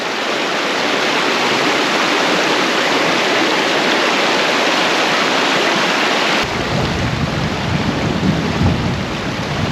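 A river rushes past a Spanish village in a steady, loud wash of broadband water noise that continues without a break, turning heavier and rougher toward the end.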